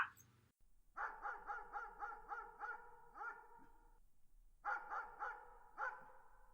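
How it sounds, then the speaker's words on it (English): Cerberus, the three-headed guard dog of Hades, barks in an animated retelling of Eros and Psyche: a rapid run of about eight sharp, close barks, a brief pause, then four more. "The three-headed guard dog of Hades lurked just ahead on the path."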